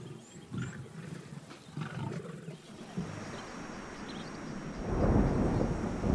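A white lioness roars in the African bush, giving deep, rumbling calls under steady outdoor ambience, with a louder, broader surge near the end.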